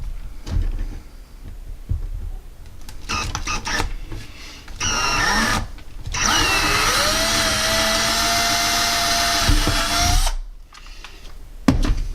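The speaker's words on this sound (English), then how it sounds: "now the holes are drilled" A handheld power drill bores holes, whirring loudly and steadily in several runs of varying pitch, with brief gaps and handling knocks between them.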